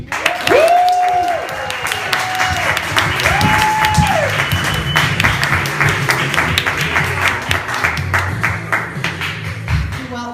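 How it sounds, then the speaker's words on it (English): A theater audience at a Los Angeles storytelling festival welcomes the first performer with sustained, dense applause, a few whistles rising briefly above the clapping near the start before the ovation settles into a steady roar. "applause for our first performer"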